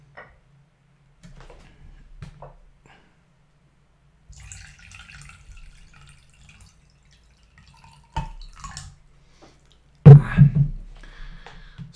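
Water poured into a glass at a desk, a short trickle and splashing toward the end after a few faint taps and clinks, fairly close and otherwise quiet.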